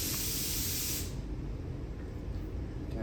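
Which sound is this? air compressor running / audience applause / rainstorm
air compressor running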